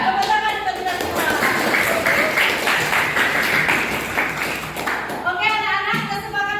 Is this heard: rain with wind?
no